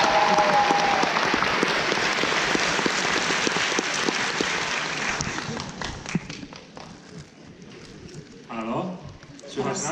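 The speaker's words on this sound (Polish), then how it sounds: "Brawa jeszcze raz!" Loud applause from a convention panel audience at Pyrkon 2018 fills the first half, a thick crowd clatter that thins and fades out before voices and scattered sounds take over.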